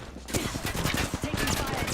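Rapid bursts of automatic gunfire crackle in a battle royale shooter game, a dense fusillade of close, loud shots with overlapping reports and no pauses.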